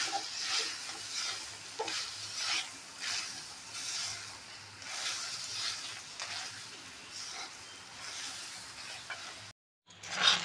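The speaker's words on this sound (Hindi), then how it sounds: "लो फ्लेम रे रखी गैस टाको गोलैबा को पड़ियो, नहले गुड़टा पोड़ी जीवो।" Jaggery is stirred in a pan over a low flame, giving a soft, continuous sizzle and scraping swish that rises and falls with each stroke, then briefly cuts out near the end.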